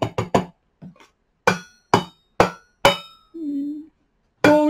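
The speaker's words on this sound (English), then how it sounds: "These are great fun. We've got stainless steel bowls." Stainless steel bowls are struck one after another, giving a series of bright metallic clinks and ringing hits in quick clusters and single strokes, close and clear, with a short hum-like tone between strikes.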